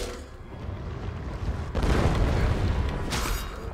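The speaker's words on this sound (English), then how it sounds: "Oh, everything's exploding." Explosions in Elder Scrolls Online, a low rumbling boom that surges suddenly partway through and keeps roaring, loud and dense, without talking.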